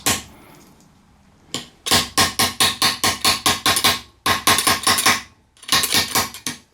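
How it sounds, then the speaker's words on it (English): Rapid, evenly spaced metal hammer strikes on a silver armring ring out up close in several bursts, each run of blows separated by brief pauses. "So what I'm going to do is run the hammer along this side now, show you how that twists."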